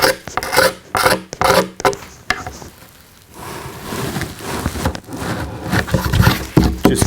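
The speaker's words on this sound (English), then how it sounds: "so I'm just going to shave that down so it's a little sharper and smoother" Rough, rhythmic rasping strokes of a blade shaving down a rock ding in the p-tex base of a Grassroots powsurfer, close and fairly loud, in quick bursts and then a steadier scraping.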